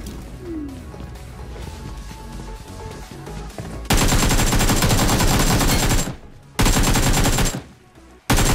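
Gunfire in the mobile battle game PUBG Mobile: loud, dense automatic bursts that start abruptly and cut off in sharp stops, preceded by quieter game ambience.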